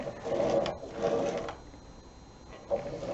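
A domestic knitting machine carriage works a lace stitch from a rolling punch card. It gives a rattling mechanical whir in two close sweeps, a pause, then the start of another pass, fairly near and moderately loud.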